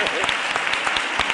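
Brief applause from a lecture audience, a dense patter of clapping heard for just over a second.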